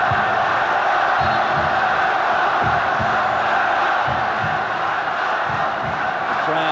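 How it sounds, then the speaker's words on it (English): A football crowd at a Hong Kong versus China World Cup qualifier chants "Hong Kong" in loud, rhythmic repeated bursts over a dense, constant roar of massed voices. "The crowd screaming out, Hong Kong, Hong Kong."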